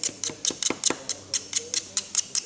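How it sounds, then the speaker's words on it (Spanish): Back of a pair of scissors scraping leftover solder tin off a hot soldering iron tip while soldering an audio cable: about a dozen short, crisp metallic scrapes and ticks in a quick, fairly even rhythm, close and fairly quiet. "Para limpiar el soldador, ese estaño que queda, se utiliza la parte trasera de las tijeras."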